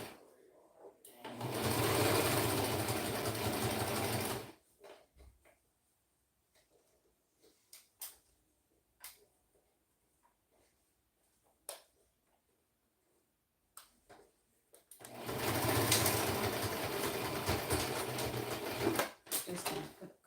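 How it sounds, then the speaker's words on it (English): A sewing machine stitches a fabric Santa sack in two loud, steady whirring runs at the start and end, with scattered quiet clicks and handling noises in the pause between. "Just gonna put a couple of back stitches in."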